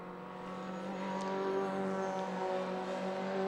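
Mini Cooper S race cars at Donington running side by side past the pits, a sustained engine whine rising gradually as they approach, heard from a distance and moderately faint.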